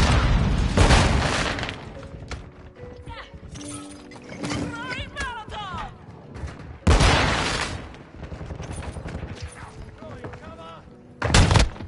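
Frag grenade blast and gunfire in Call of Duty 2 multiplayer: heavy booms and rattling bursts of shots, loud and close, with a second big explosion near the end, while players talk excitedly over the action.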